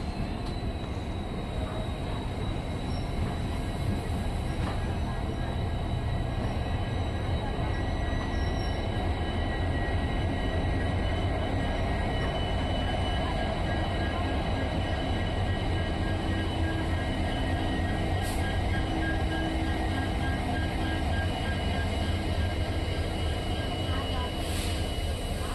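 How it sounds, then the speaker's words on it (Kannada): A DEMU passenger train runs steadily on the line after leaving Hosapete Junction, giving a continuous, even rumble and rolling roar that holds at a constant level throughout. "10 ಗಂಟೆಗೆ ನಮ್ಮ ಟ್ರೈನ್ ಹೊರಟಿದೆ ಹೊಸಪೇಟೆ ಜಂಕ್ಷನಿಂದ"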